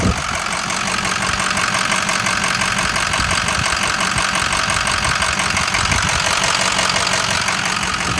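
A 2005 Ford F450 diesel engine idles steadily with its oil cap removed, a continuous close rumble with a faint knocking texture and no talking over it.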